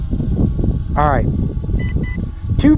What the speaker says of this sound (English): 2 beeps. We're in speed 2, normal mode.